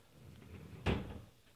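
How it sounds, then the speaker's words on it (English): An IKEA dresser drawer slides shut on its own, ending in a single soft thud in a quiet room, with faint room noise before and after. "Now, if you did it right, you get to a certain point, the drawer closes itself."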